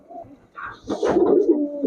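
Pigeons in a pigeon shop give a short, soft cooing call lasting a couple of seconds, close by and alone without talk.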